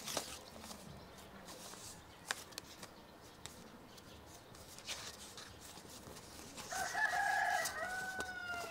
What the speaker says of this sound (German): Der Hahn kräht